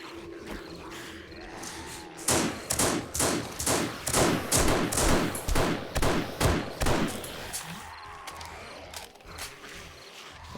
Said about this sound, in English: A better vantage point shooting without blocking my shot, since you can shoot through the blocks.